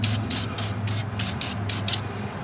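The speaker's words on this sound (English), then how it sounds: "I'll go ahead and spray these two strut bolts with some PB Blaster as well" PB Blaster penetrating oil sprayed onto strut bolts during axle work on a Hyundai Elantra: a series of about eight short, hissing aerosol bursts in a steady rhythm, close and fairly loud over a low background hum.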